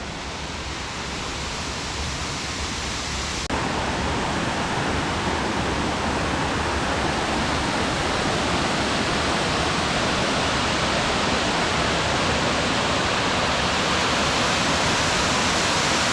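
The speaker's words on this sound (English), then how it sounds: "We could hear the waterfall pretty loud right now." Laurel Falls in the Great Smoky Mountains: a loud, constant rush of falling water fills everything, a dense broadband roar that swells slightly early on and then holds steady.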